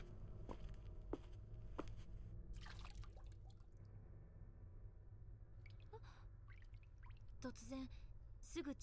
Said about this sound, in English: I was suddenly distracted by the sound of dripping water nearby,